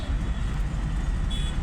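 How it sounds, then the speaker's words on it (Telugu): Road traffic stuck in a full jam on a road in Uppal, with a steady low rumble of engines close by and a brief thin horn toot near the end. "ట్రాఫిక్ అయితే ఫుల్ జామ్ అయింది."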